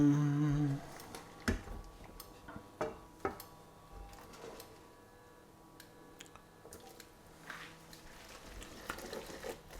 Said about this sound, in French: on mélange bien les pâtes dans la crème